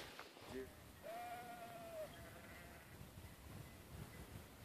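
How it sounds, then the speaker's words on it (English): A sheep out in open mountain country lets out a single drawn-out bleat, preceded by a brief faint call, heard at moderate distance over low outdoor background noise. "look at all the sheep"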